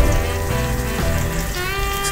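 Duck breast sizzles steadily in a frying pan, its fat rendering out with a continuous crackling hiss that stays loud and close from start to finish, with no voices over it.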